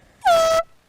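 A single loud, steady air horn blast, about a third of a second long, signals the three-minute gun at a spring classic boat race, sounding alone with no talk over it.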